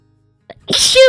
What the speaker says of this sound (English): there's that sneeze from earlier